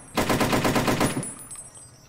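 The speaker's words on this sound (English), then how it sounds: "a modified FAL that shoots plasma shots" Automatic fire from a modified FN FAL rifle firing plasma shots in a Fallout New Vegas mod, a rapid, even burst of about a second, loud and close, then a fading tail.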